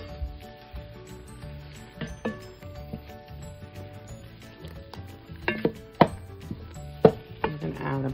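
A spoon scrapes and knocks against a pot as marshmallows are stirred into melting butter for peanut butter Rice Krispie treats, soft swishing broken by several sharp metallic clinks near the end.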